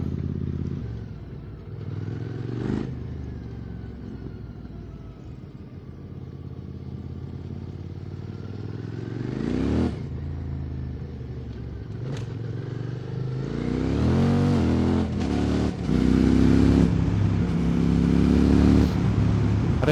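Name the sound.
QJ SVT 650X motorcycle engine while riding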